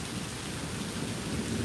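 Heavy rain pours steadily during a huge storm at Disney, a dense, loud, unbroken wash of downpour with a low rumbling undertone, no voices.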